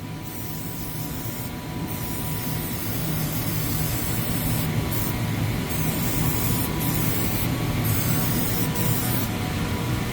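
An aerosol can of contact adhesive hisses in steady bursts during a kitchen remodel, a continuous spray sound with brief pauses between passes, close and fairly loud.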